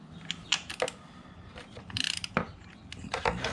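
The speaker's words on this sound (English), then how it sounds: "So I'll use the ratchet, just give it a wee to what I think would be" Ratchet wrench clicking as it snugs a bolt to hand tight during an oil change on a Yamaha XV950 Bolt motorcycle, a series of sharp, close ticks in short irregular bursts with quiet pauses between.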